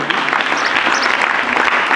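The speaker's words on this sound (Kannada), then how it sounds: "ಜೋರಾದ ಚಪ್ಪಾಳೆಯ ಮೂಲಕ ಅವರಿಗೆ ಸ್ವಾಗತ ಕೋರೋಣ." A school audience at a library week celebration claps loudly to welcome a guest headmaster, a dense, steady burst of many hands that fills the whole moment.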